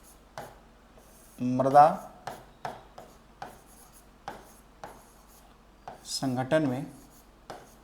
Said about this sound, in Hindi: यहाँ पर लिखेंगे कि